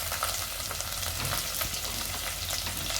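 Hot oil spatters and sizzles steadily in a pan while frying ahead of adding onions for egg rice, a dense continuous crackle close by with no talk.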